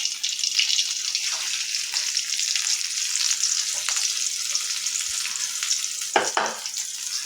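Onions frying in hot oil in a wok give a steady, close bright sizzle that runs the whole time, with a couple of stirring knocks near the end.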